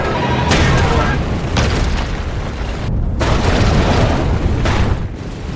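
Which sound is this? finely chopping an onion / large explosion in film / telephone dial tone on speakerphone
large explosion in film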